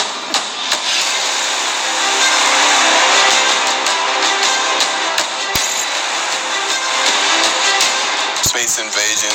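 Cars race through a car chase in a movie trailer, a loud roaring engine rush with revving and sharp impacts, mixed under music and dialogue.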